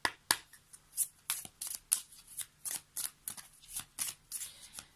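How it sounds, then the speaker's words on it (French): Oracle cards being shuffled by hand close up, a quick run of crisp, papery riffles and slaps repeating in uneven bursts against a quiet room, with no talking. "on va prendre une petite carte de l'oracle de Mélisse"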